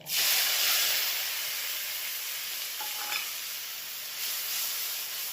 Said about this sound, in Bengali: শাকটাকে একটু ভেজে নিয়ে